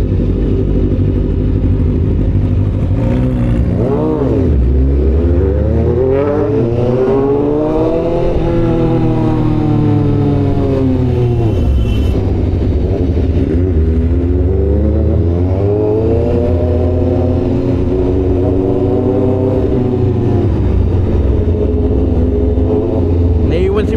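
Engine of an older dual-exhaust Kawasaki Z1000 inline-four motorcycle revving loudly, with rising and falling pitch sweeps of repeated throttle blips over a steady rumble, while people talk over it.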